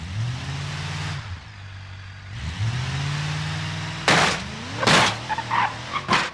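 A truck in the BeamNG driving game revs with a steady engine drone that drops off and returns, followed by several sharp bursts of noise, like impacts or collisions, near the end.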